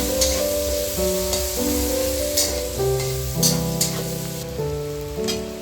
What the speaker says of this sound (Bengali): এবার দিয়ে দিচ্ছি পেঁয়াজ কুচি পেঁয়াজটা ভালো করে ভেজে নেব